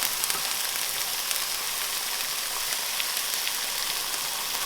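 Burger patties frying with a knob of butter in a pan, a steady bright sizzle and crackle with fine popping spatter, even and close throughout.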